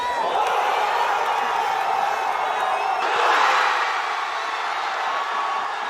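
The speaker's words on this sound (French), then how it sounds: "Les supporters tricolores présents à la baie des Citrons accueillent avec joie le coup franc en faveur de la France à la 18e minute." A huge crowd of French football supporters at the Baie des Citrons in Nouméa cheers a France free kick against Croatia, a loud continuous roar of voices and whoops that swells briefly midway.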